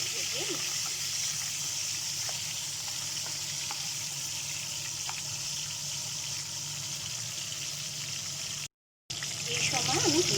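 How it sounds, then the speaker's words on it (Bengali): Tomatoes fry in a pan on medium heat for a fish curry, giving a steady, close sizzle that runs throughout with a brief cut near the end, with no talking over it. "এখন আমি 2 মিনিটের জন্য টমেটোগুলো ভেজে নিচ্ছি।"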